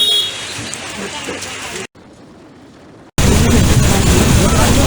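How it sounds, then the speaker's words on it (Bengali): Steady hiss of rain at Asam Basti on the hilly road from Kaptai to Rangamati, loud and close, with a brief quieter stretch in the middle before the downpour surges back even heavier. "বৃষ্টি পড়ছে বাইরে এখনো।"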